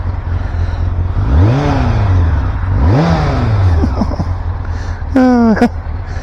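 A 1990 Honda CBR1000F inline four-cylinder motorcycle engine revs close up, several rising and falling throttle blips over a steady idle, ending with a sharp high rev near the end.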